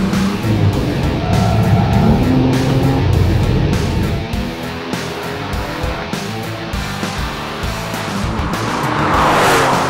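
A supercar races around the Mondello Park circuit, its engine roaring loudly and continuously with shifting pitch as it accelerates, heard close up with a broad, rushing noise building toward the end.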